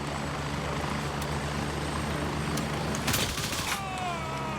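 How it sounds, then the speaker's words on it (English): Helicopter rotor drone from a chopper in the military shooter Gray Zone Warfare, a steady loud broadband roar throughout, with a short burst of sharper crackling bangs near the end that may be gunfire. "I did not hear that guy because of the chopper"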